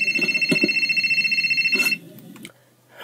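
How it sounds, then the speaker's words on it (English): A telephone rings in a cinema before a film, a repeating electronic trill pulsing rapidly for about two seconds, then cutting off to a quiet room with brief faint noises. "It's somebody's phone."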